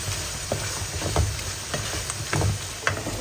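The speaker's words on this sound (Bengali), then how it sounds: "এখন দিয়ে ভালো করে এটাকে কষাবো।" Soaked, softened dried fish fries with spice paste in a pan, a close, steady sizzle broken by soft stirring scrapes and taps.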